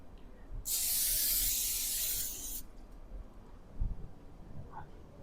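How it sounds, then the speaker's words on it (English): One sustained hissing spray of cooking oil onto a pan lasting about two seconds, close and fairly loud, followed by quieter handling sounds and a light clink. "I'm going to spray my pan because I don't want it to stick everywhere."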